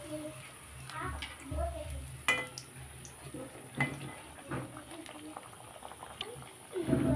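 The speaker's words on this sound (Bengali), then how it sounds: "প্যাটিসগুলো ভাজার জন্য তেলটা হালকা গরম করেই কিন্তু প্যাটিসটা ভাজতে হবে" Homemade layered veg patties fry in lightly warmed oil over a medium-to-high gas flame, giving a soft, steady bubbling sizzle with a few sharper crackles, under a person talking.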